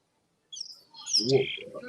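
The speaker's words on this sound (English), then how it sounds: "It's a bird. Where? In the trees." A bird in the trees of a park gives a short series of high chirps and calls, faint and somewhat distant, over near-silence.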